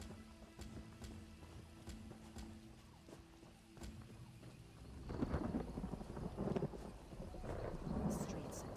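Rain and rolling thunder in the fantasy game Elder Scrolls Online, set in Grahtwood: a steady wash of rainfall with low rumbles, swelling louder in the second half, with no voices.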